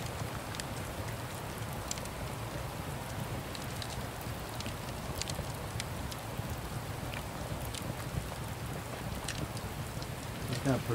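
Constant downpour of rain in the video game Rising World fills the scene, a dense hiss with occasional distinct drop hits, steady throughout and fairly close.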